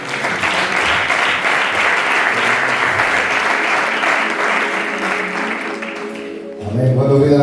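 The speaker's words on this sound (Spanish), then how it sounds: "¿Le puedes dar un aplauso al Señor?" A church congregation gives a loud, sustained round of applause for about six seconds, dense and steady, before it fades and shouting voices and music rise at the end.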